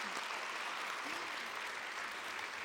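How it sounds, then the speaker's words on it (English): A panel audience at PAX Aus gives a round of applause for an on-stage volunteer, a steady, fairly faint wash of clapping from a room of people, continuous and even throughout. "big round of applause for our volunteer. Trinity"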